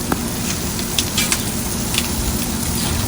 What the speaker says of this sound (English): Now we cooking these good old seasoned steaks